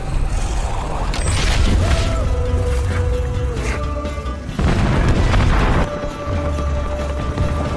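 Deep booming blasts rumble out, one after another, layered with dramatic sound effects and tonal swells.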